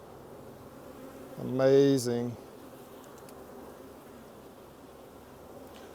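Honeybees buzzing around hive frames during a colony split, a soft continuous hum near and low, with a man's brief exclaimed word rising over it midway.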